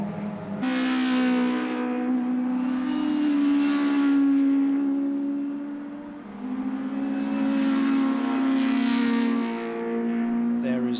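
Early-1960s Formula Junior race cars, including a Lotus 20, scream past at the Donington Historic Festival, with loud, high-revving engines rising and falling in two close passes.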